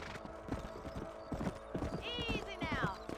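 Hooves clip-clop at a steady trot as a horse moves through a Wild West ranch in the video game Red Dead Redemption, with two short whinnies midway and speech running over the hoofbeats.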